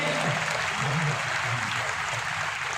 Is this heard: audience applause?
yes